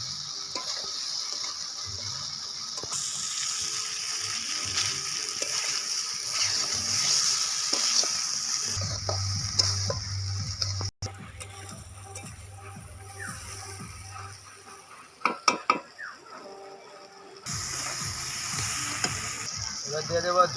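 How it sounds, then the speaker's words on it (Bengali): Fried soybean pieces coated in egg sizzle and hiss in a hot pan while a spatula scrapes and stirs them, with steady frying noise, a few sharp clatters and a low hum in the middle. "এবার দিয়ে দেবো ভেজে রাখা সয়াবিনগুলো, ডিম দিয়ে ভেজেছিলাম, এবার ভালো করে কষিয়ে নেব।"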